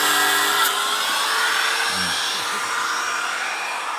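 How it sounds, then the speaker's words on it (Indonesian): A power grinder shaping a carved piece of PVC pipe makes a loud, steady whirring drone that holds almost unchanged for the whole stretch, with no talking. "Setelah diukir, maka digerinda seperti ini."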